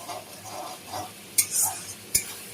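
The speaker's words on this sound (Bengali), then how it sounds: "এবার মশলাটাকে ভালো করে কষাবো" Spice masala with tomato paste is stir-fried in a pan: a low sizzle with soft scraping strokes and two sharp clinks of a spoon against metal, close by.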